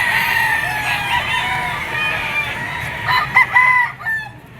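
Roosters and chickens at a poultry market in Lipa, Batangas, with several overlapping crows and steady clucking nearby, loud and busy throughout with no talking.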